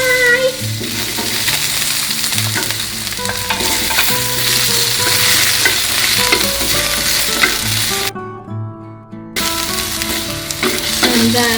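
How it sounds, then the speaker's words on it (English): Potato pieces fry in oil in a pan, giving a steady, loud sizzle and crackle that fills the clip. Occasional stirring clinks and scrapes sound through it, and the sizzle briefly drops out near the end. "First, we will put the potato to the fry."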